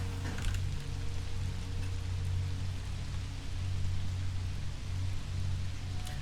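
Steady rain falls in the fishing video game Intergalactic Fishing, a continuous soft hiss with a low droning hum beneath, even and unbroken throughout.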